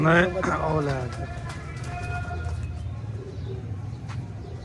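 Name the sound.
pigeons cooing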